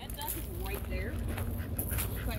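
Ducks and geese at a pond calling out while approaching people, with short quacks and honks mixed under ongoing talk.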